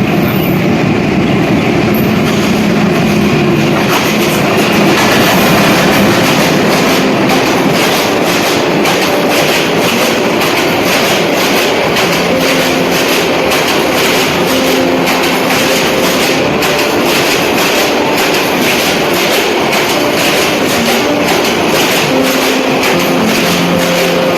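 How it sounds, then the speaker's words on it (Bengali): The Mohanganj Express intercity train passes close by on a Bangladeshi line toward Gafargaon, with a loud continuous rumble and rhythmic clatter of wheels on rails. "এই মোহনগঞ্জ এক্সপ্রেস ট্রেনটি এখন যাবে গফরগাঁও"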